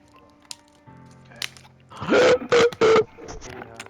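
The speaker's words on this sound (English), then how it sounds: "Was that the sound of you drinking water?" A person drinking water close to the microphone: three loud, closely spaced gulping bursts midway through, over faint background tones and small clicks.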